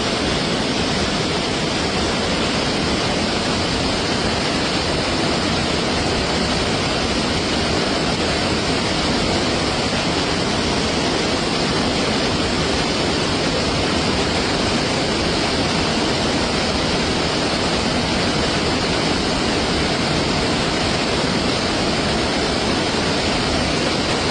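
Swollen mountain stream in Kerala in flood, its rising water rushing in a loud, constant, unbroken roar that stays close and steady throughout with no voices.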